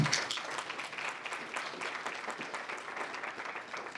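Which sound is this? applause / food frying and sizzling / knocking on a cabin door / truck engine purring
applause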